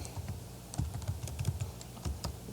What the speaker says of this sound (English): I'm going to type in there Triplet